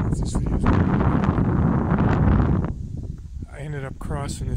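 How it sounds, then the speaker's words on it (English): Strong wind buffets the microphone in an open farm field drilled with Kernza, a loud continuous low roar that drops off near the end as a voice comes in. "Windy out here."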